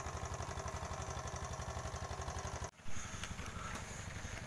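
A sand-mining boat's diesel engine chugs steadily with a rapid, even thump, moderately distant on the Brantas River in Kediri, briefly cut by a clunk before the rhythmic idle resumes.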